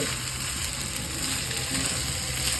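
Scrambled egg and rice stirred in a hot pan, a steady scraping and clicking of the spatula over a continuous sizzle, close and moderately loud, with no voices.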